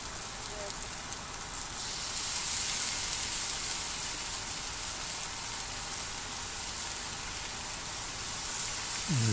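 Butter sizzles in a pan with asparagus, a steady, even crackle and hiss lasting throughout at moderate loudness, with no talking over it.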